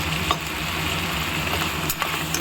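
Eggplant frying with turmeric in a pan gives a steady close sizzle throughout, with a couple of light scraping stirs over the constant hiss.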